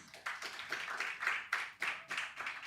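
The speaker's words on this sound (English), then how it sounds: "Do give yourself a round of applause, please" Rhythmic synchronized clapping from an audience at an investor summit, a steady pulsing beat of many hands striking together, moderately distant and unaccompanied by talk.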